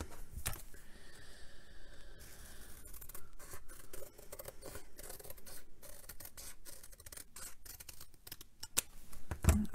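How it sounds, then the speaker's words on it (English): Scissors snip through paper or card to cut out a traced piece for a semicircular book, giving a run of dry, close cuts and rustling with no talk. "draw around the edge like that, and then you can just cut that piece out."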